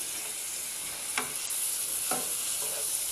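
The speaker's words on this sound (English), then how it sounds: "Now we're going to saute these." Peas and carrots sauté in a pan with a steady, hissing sizzle, while a utensil stirs them in a couple of soft scraping strokes close by.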